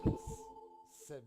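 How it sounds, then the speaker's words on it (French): Heartbeat sound effect played during a French tabletop role-play session of Pathfinder, a pair of low thumps followed by a sustained tonal hum, with a brief voice near the end. "entends les bruits de ton propre battement de cœur"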